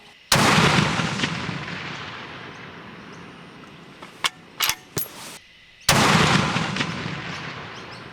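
Two loud, sharp rifle shots from a Weatherby Model 307 Alpine CT at a shooting range each ring out and fade in a long echo, with a few metallic bolt-action clicks between them.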